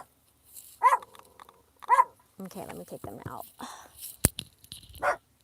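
Two sharp dog barks ring out close by, a couple of seconds apart, followed by someone speaking softly and some household knocks and movement.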